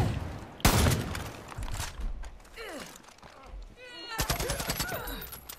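Rapid gunfire in the video game Far Cry 5: a sharp single blast, then dense bursts of shots near the end, loud and close, with someone talking over parts of it.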